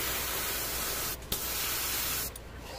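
An airbrush sprays paint onto a Tau Riptide model, a steady close hiss that breaks off briefly twice.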